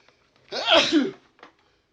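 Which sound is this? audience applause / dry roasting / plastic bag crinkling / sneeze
sneeze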